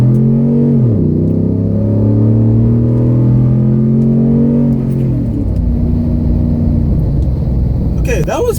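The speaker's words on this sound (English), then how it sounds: "tell you guys what the acceleration in this big truck is like. With a big engine like this, it should be quite nice." A 2014 Ford Raptor pickup with a 6.2-liter V8 accelerates hard, its deep, loud engine note climbing steadily with clear drops at gear changes, heard close up from inside the truck.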